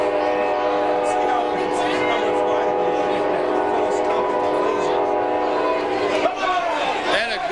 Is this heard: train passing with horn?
yes